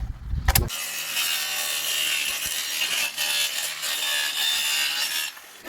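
A hand saw rasps steadily through bamboo in quick back-and-forth strokes, close and continuous, after a brief knock at the start.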